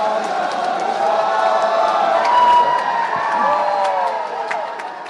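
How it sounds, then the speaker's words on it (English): Crowd cheering and whooping for performers of Naga cultural dances at a festival, a sustained mass of shouting voices with some scattered claps, fairly loud throughout. "Shall we give our performers a big round of applause?"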